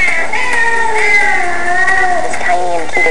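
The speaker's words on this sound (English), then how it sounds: "And they love to meow." A Singapura cat meows repeatedly in drawn-out, high, wavering cries, close and fairly loud, one call running into the next.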